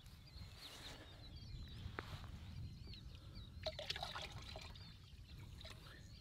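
Water poured from a bucket into a container in small amounts, a faint, steady trickle and splash that runs throughout with a few light chirps in the background.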